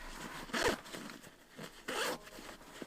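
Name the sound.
zipping YKK zipper on 5.11 Rush 12 backpack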